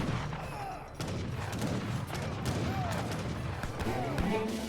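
Age of Empires 3 battle with units firing: rapid, scattered crackling gunshots in ragged volleys, fairly distant and quiet, under a commentator's voice.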